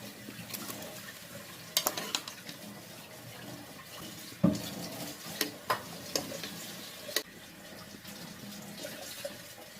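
Rice being added to a pan of biryani masala with coriander and garam masala powder, stirred with a steady scraping and a soft sizzle, broken by a few louder clinks and knocks against the pot, with no talking.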